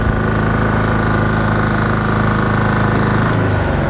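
An Athena bi-levelling scissor lift raising its legs, a loud steady close hydraulic and motor hum with a low repeating throb, continuous and without speech.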